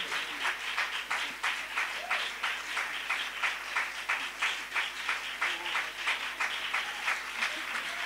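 A standing congregation at a French prayer service claps together, a steady, dense applause that continues evenly throughout at a moderate distance.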